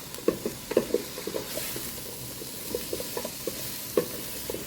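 Sliced cremini mushrooms sautéing in a pan, a soft continuous sizzle under repeated scraping and tapping stir strokes, close and moderate in level, with no voices.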